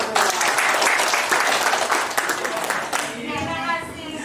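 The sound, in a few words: audience clapping hands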